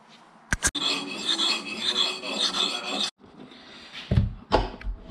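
A hand file rasps back and forth across a Harbor Freight Pulaski axe head, steady dense scraping strokes lasting a few seconds, then stopping, followed by a couple of brief knocks and handling noises close by.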